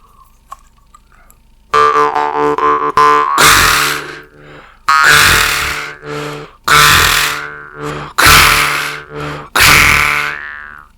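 Doromb Blackfire jaw harp played with rolled R's: after a quiet lead-in, six loud twanging bursts with buzzing rattles, each held about a second, separated by short gaps, close and alone.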